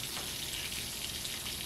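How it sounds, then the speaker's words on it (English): Fish frying in hot oil in a pan gives a steady, close sizzle with fine crackling throughout, alone without talk. "cooking fish."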